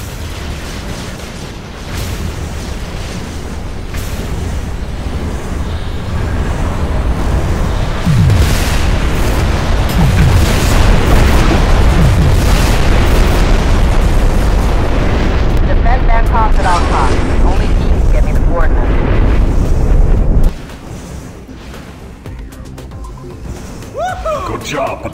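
Artillery explosions in the video game Dome Defend Raid, a loud sustained rumble of booms and blasts that swells and then cuts off abruptly, with voices talking over it.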